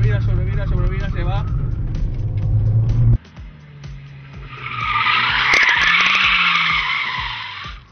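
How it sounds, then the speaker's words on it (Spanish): A car drifting and oversteering on a circuit, with a loud sustained tire squeal and engine roar; someone speaks over the first few seconds, then the long screeching skid continues alone. "Vamos a pasar una conducción espectacular, que supondría derrapar, frenar al límite, tocar el punto de contacto,"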